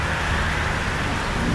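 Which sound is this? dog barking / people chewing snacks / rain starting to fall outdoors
rain starting to fall outdoors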